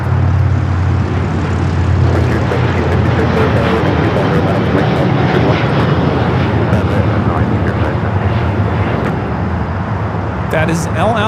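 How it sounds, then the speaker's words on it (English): A 787-9 Dreamliner rolls for takeoff at LAX bound for Tel Aviv, a loud, steady engine roar heard up close with people talking over it. "That is LL Flight 6 taking off to Tel Aviv on the 787-9 Dreamliner"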